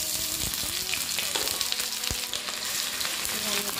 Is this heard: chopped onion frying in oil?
yes